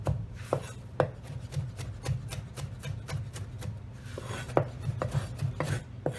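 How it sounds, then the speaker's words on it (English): A knife chops onion finely on a cutting board for lamb dolma. The sharp strikes come in quick, fairly steady bursts, each a crisp tap over a soft rubbing undertone, close and moderately loud. "And with the onion, we just want to chop it up"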